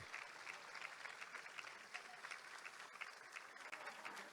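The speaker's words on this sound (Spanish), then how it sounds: "Agradecemos y despedimos con un fuerte aplauso a Silvina Batakis, a nuestra ministra." At the opening of a Latin American environmental agenda congress, an audience gives a minister continuous, fairly distant applause that stays even from start to finish.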